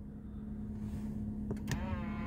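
Power side mirrors on a Mitsubishi Outlander fold in with a short electric motor whir, a couple of faint mechanical clicks over a steady low cabin hum.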